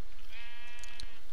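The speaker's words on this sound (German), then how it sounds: "Schafe haben wir hier oben" A single drawn-out sheep bleat in modded Minecraft Pixelmon, a nasal wavering baa heard up close, with a soft click near the end.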